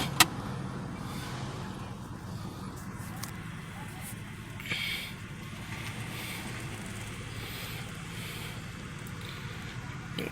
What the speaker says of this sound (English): I'm trying to wait for the traffic to go